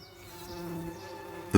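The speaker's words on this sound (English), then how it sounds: "The bees have come up to the ship." Buzzing bees hum at a low, fairly steady level, ending with a brief louder burst close to the microphone.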